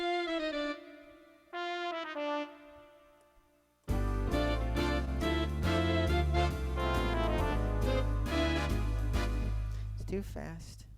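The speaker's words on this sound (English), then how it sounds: "That's a little fill-in that's going to be done on the lower keyboard or upper." A keyboard plays a short fill-in on the lower or upper manual, first a few sparse held notes, then a dense, full chordal passage with bass, close and fairly quiet.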